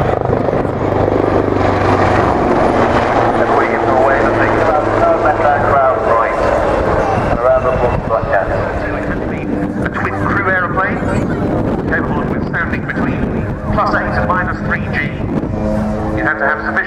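A Bronco propeller aircraft flying at the RNAS Yeovilton airshow; a continuous loud engine drone with wind buffeting that rises and shifts as it passes, under steady public-address commentary.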